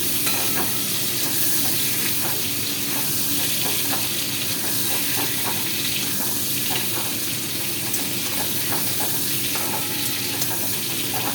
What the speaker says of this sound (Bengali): একটু পরপর খুলে খুলেই এটাকে এবারে নাড়তে হবে, না নাড়লেই আমার এটা পুড়ে যেতে হবে।